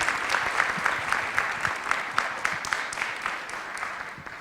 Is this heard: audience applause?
yes